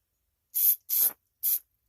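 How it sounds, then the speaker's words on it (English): Three short, sharp hissing bursts from an aerosol cleaner can spraying out carburetor holes on a 2009 Murray snowblower's Tecumseh carburetor, close up, with brief silent gaps between them. "You want to go ahead and spray them out,"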